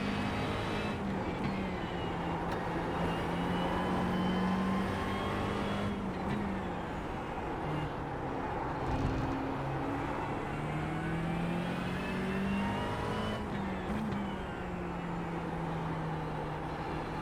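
A McLaren GT race car at Zandvoort in iRacing, its engine droning steadily at close range, with pitch rising and falling through gear changes and throttle lifts across the lap.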